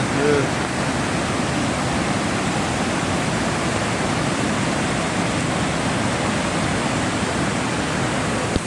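Cheeyappara waterfall near Munnar in rainy weather, a dense unbroken roar of falling water that stays loud and even throughout.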